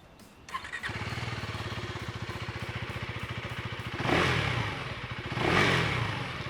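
A 2024 KTM 390 Duke motorcycle engine catches and settles into a steady, pulsing idle, then gets two strong revving blips, the second held longer, loud and close with no talking.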